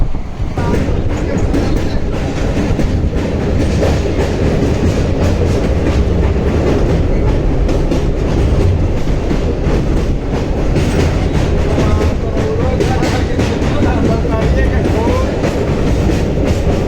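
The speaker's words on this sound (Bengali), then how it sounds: "গতিতে ট্রেন ছুটে চলেছে" A train runs at speed on its way down from the Himalayas toward Haridwar, heard from inside as a loud, constant rumble with rhythmic clickety-clack of wheels over rail joints throughout.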